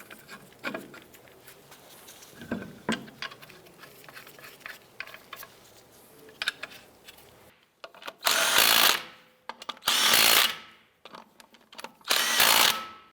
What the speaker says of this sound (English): Start all of our lug nuts by hand. Then we'll go ahead and snug those down.